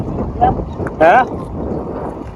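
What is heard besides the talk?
strong wind blowing on a farm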